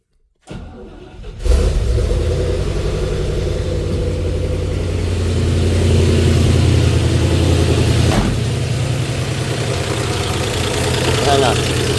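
A 1964 Oldsmobile 394 V8 with a slight exhaust leak on the left side cranks briefly, catches and settles into a loud, steady, rumbling idle close by.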